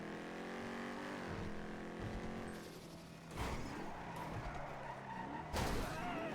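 A car in the game GTA NoPixel revs and slides with tire screech, then two sudden crash thumps land a few seconds apart over steady engine drone.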